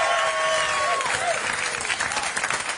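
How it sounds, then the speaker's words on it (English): A festival crowd at Moon Tower Festival in Austin, Texas claps loudly in a dense, sustained round of applause, with a few faint whistles rising over the clapping. "Give yourselves a fucking round of applause for coming out today."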